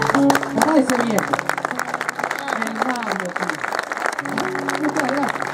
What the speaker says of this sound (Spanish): pido un aplauso grandote para ese viejo